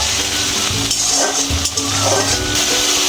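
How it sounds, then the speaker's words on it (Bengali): Steady, loud sizzling of onion paste frying in hot mustard oil until reddish, with occasional stirring scrapes against the pan and no talking. "পেঁয়াজ বাটাটা আমি একটু লাল লাল করে ভেজে নেব।"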